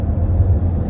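A car cruising on the road while pulling around and overtaking a vehicle carrying ladders, heard as a steady close engine and road rumble with no talk.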